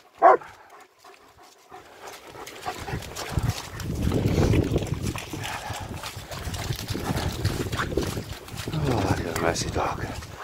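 Two muddy German shepherd dogs panting and moving about indoors, a steady close breathy rustle with footfalls, while a person talks over it now and then.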